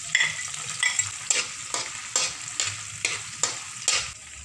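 Garlic and lemongrass sizzle in hot oil while being stirred, giving rhythmic scraping surges over a constant close frying hiss for a shrimp and chicken buko canton.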